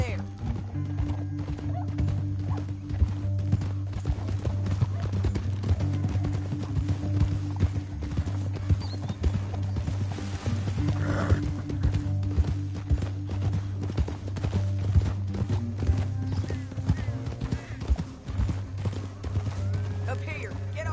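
Horses gallop with rapid clip-clop hoofbeats in Red Dead Redemption II, a steady rhythm under a loud low rumble of game music and ambience, with a brief whinny and voices speaking partway through.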